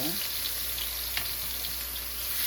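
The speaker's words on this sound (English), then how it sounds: "we're gonna let the garlic toast up just a little bit" Garlic toasting in a pan over medium-high heat while cooking baby bok choy, a steady close sizzle and crackle of hot oil with a faint clink partway through.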